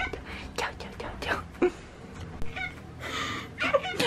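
A cat gives a few short, soft meows indoors, close by and fairly quiet, mixed in with a person speaking in a low voice.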